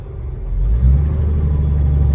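A 1941 Graham Hollywood with a supercharged engine driving along, a loud steady low rumble that builds slightly as it pulls, heard close up with no voices.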